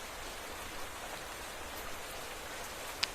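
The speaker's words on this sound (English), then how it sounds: "It's raining, which is not brilliant" Steady rain falling in Minecraft, a soft, even hiss of raindrops throughout with one brief sharp tick near the end and no talking.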